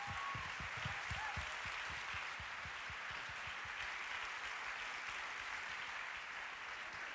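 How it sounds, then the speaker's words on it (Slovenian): Applause from a festival audience at a pop and jazz event, sounding as a faint, even wash of many hands clapping that continues steadily throughout, with a few louder claps near the start. "Tako da en velik aplavz in hvala vsem skupinam"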